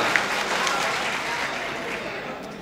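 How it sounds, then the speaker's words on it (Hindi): A mushaira audience in Gorakhpur applauds a ghazal with dense, steady clapping from a large crowd that carries evenly through the whole moment without a break. "गजल का एक बार तालियों से इस्तकबाल कर दें आप"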